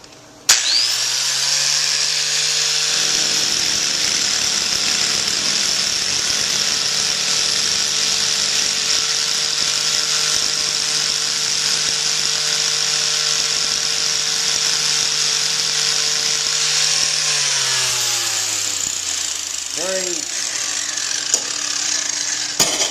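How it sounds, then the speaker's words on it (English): A steady, loud grinding whine from a power tool grinding a ceramic composite wear coating runs continuously for about twenty seconds, then winds down with a falling pitch near the end. "now I'm going to do some grinding on that"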